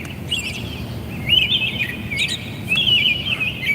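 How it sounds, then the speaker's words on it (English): Birds sing outdoors in bright, high chirping phrases that repeat in short bursts over a low, steady background rumble, moderately close and clear, with no talk. "Let you hear the birds for a minute."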